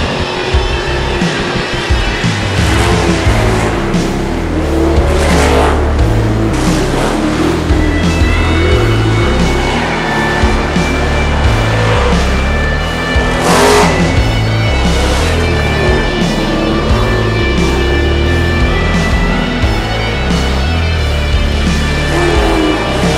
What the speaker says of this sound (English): Green flag racing allows the field to straighten out as Dean Willey pushes the 68M up front